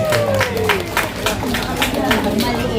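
An audience at a public address by a Pasig city mayor claps in a steady, rhythmic beat, loud and close, with crowd murmur and a voice talking over it.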